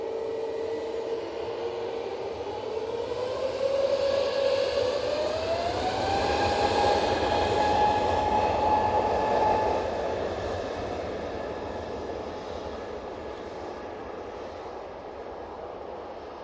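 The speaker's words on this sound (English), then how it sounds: "It's an A320neo for the mighty orange." An EasyJet Airbus A320neo departing Manchester Airport, a sustained jet engine roar with a rising whine that swells loud as it passes, then slowly fades into the distance.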